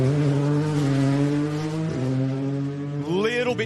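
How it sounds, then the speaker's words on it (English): A Toyota Yaris rally car sweeps past on a Queensland rally stage near a causeway, its loud, close engine note holding a strong tone, dipping at a gear change and then climbing sharply as it accelerates away. "We'll pause and enjoy the sound of the Yaris as it comes past us."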